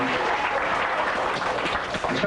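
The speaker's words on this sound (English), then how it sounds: "Give him a round of applause" A room full of people claps steadily in continuous, moderately loud applause.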